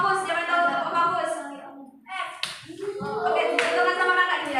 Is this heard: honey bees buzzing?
no